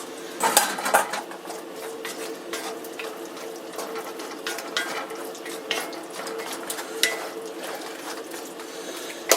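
Ground beef and mushrooms being stirred into bacon gravy in a cast iron pan: a utensil repeatedly scrapes and clinks against the iron over a steady low sizzle, with no talking.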